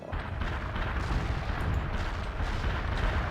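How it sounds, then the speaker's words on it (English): An artillery barrage in World in Conflict pounds the target area with a continuous roar of overlapping blasts and rumbling booms that stays dense and loud throughout. "Artillery barrage turned the target area into dust."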